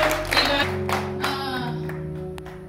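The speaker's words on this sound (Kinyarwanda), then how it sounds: "dukomere Imana amashyi menshi" A church congregation claps together in brief, scattered applause over sustained music tones, close and fairly loud.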